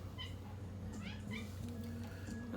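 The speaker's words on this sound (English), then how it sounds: "That's my little kitty cat" A pet cat named Selena gives several short, faint meows, rising and falling, over a low background hum, with no talk.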